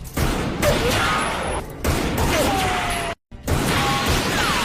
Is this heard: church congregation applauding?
no